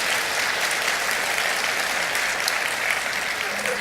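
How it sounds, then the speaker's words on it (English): A conference opening session audience applauds for the SEG Foundation, steady broadband clapping of a large crowd, moderately loud and continuous throughout without talk. "So let's have a round of applause for the SEG Foundation."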